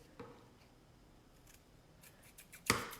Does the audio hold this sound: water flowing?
no